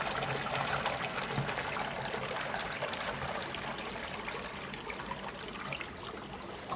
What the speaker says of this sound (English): To fill the water back up from the bottom drain, you'll see a bit of muck coming up, so it's purging the drain lines.